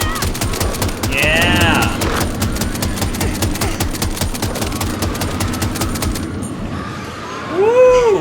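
Rapid automatic gunfire from House of Ashes rattles loudly and steadily for most of the stretch, with a brief spoken interjection and a swooping tonal effect near the end.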